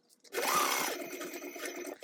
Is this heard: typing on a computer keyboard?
no